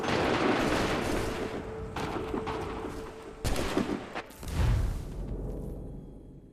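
A musket volley rings out in Assassin's Creed 3: a dense ragged burst of gunfire, then a few sharp separate cracks and a deep boom, over battlefield ambience that fades away at the end.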